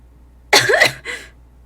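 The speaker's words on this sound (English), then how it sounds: "she coughed" Coughing in a Roblox movie, two close harsh coughs in quick succession, the first longer and louder, the second short and softer.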